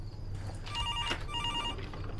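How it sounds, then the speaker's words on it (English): A telephone rings in a horror video game set inside a house, its repeated electronic trill bursts sounding clearly over a low steady hum, with no talking. "Better pick up the phone."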